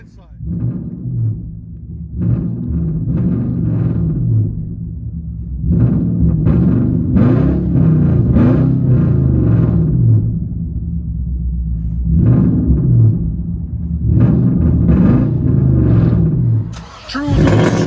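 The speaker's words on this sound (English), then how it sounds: "True straight pipe. It is loud and proud." Inside an Infiniti M45 with a straight-piped V8, the exhaust booms and drones loudly at close range, swelling with several throttle blips over a deep rumbling idle, while voices talk over it.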